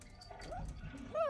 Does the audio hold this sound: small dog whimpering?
yes